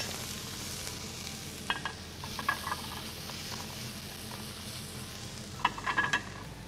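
Onions for fajitas fry in a pan with a soft, steady sizzle, broken by a few short bursts of crackling and stirring, heard quietly with no one talking.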